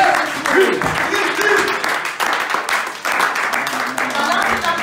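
A church congregation bursts into sustained applause and clapping to praise the word of God, a loud, steady wash of hands with voices calling out over it throughout.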